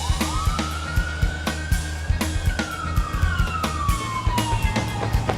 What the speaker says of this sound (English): Why are there sirens going off in this scene?